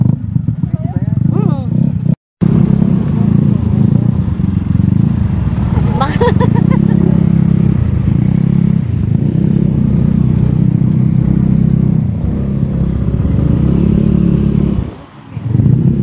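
A motorcycle engine idles and putters loudly close by at a resort cottage, with brief revving, while people talk over it.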